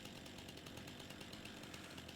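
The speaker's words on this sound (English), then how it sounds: "There's our chainsaw." Steady buzzing chainsaw engine from a farming video game, running continuously as a tree is cut, fairly faint and alone with no talk.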